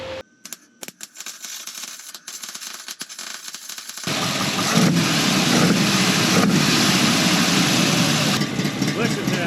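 Car exhaust rumbling through dual chambered Delta Flow mufflers: after a few seconds of sparse handling noise, a loud, steady deep engine drone kicks in and holds, buffeted by wind on the microphone.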